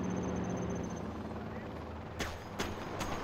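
A Combat Chinook helicopter from the game Command & Conquer Generals Zero Hour drones with a steady rotor rumble, and sharp bursts of what sound like gunfire cut in near the end.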